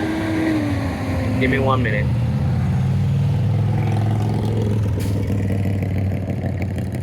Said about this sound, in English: Central Valley truck just went by.